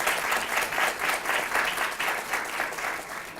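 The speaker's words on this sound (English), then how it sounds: "Please give a round of applause." Audience at a Baltimore health and wellness talk breaks into steady, moderately loud applause, many hands clapping in an even, continuous wash that holds for several seconds with no voices over it.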